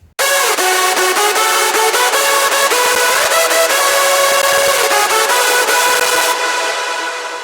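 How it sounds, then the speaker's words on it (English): A single hardstyle synth lead layer plays a melody alone: a loud, bright, buzzing tone with rapid stepped notes, steady and dense, fading slightly at the end. "and so the melody sound like this alone."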